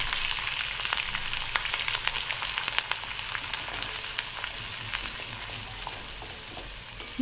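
Spices stirred and frying in hot butter for daal makhani, with red chilli and garam masala in the pan, making a continuous close sizzle peppered with crackles and spoon scrapes.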